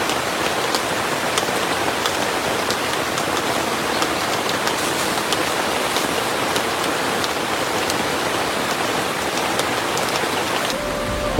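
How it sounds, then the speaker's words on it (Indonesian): Heavy rain pours down at a camp beside a flooding river, a loud, steady, dense hiss of drops that continues without a break. "Hujan lebat."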